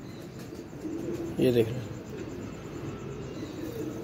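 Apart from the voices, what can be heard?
pigeon cooing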